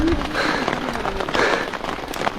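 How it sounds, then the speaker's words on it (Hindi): Rain begins falling outdoors in Swat, a soft, scattered patter of drops tapping on surfaces, fairly close and steady with faint background noise. "बारिश शुरू हो गई है।"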